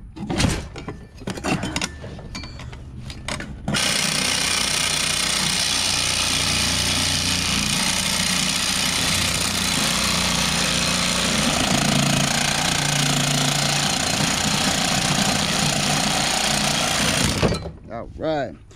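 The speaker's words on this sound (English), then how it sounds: "Reciprocating saw is just as effective as the cutoff wheel. It just doesn't cut as fast" A reciprocating saw cutting through an expensive piece of lab equipment being scrapped, a loud, steady, close buzzing roar held for about fourteen seconds, with clanks and handling noises before it starts and after it stops.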